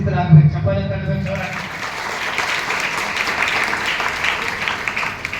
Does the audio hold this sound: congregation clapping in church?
yes